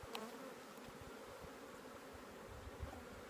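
Honey bees buzz steadily around a queen-rearing hive, a faint, continuous drone of many insects with occasional closer passes, no voices.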